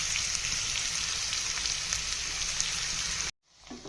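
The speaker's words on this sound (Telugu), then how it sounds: "పచ్చిమిరపకాయలు వేయాక ఉల్లిపాయలు వేసి కొంచెం గోల్డెన్ బ్రౌన్ వచ్చేదాకా ఫ్రై చేసుకుందాం" Onions and green chillies frying in hot oil until golden brown, a dense, steady, close sizzle that runs loud for about three seconds and then cuts off abruptly.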